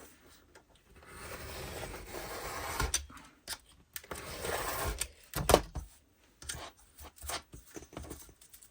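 Excess paper is trimmed off the side of a junk journal page in a series of close, soft rasping cuts and rustles with short pauses between strokes.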